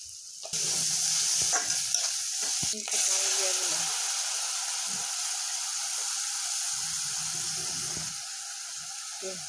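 Red chili paste sizzles and fries steadily in a pan while a fish curry with pabda fish and green banana is being made, a continuous close hiss with a few stirring knocks and clatters early on.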